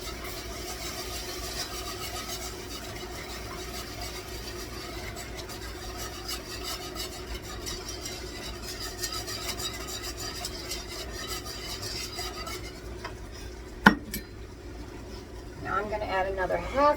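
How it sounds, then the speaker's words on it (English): A spoon stirs sour cream gravy for Swedish meatballs in a pan with a continuous soft scraping and rubbing, faint and steady, with a sharp knock near the end and stirring resuming after it. "Stirring constantly."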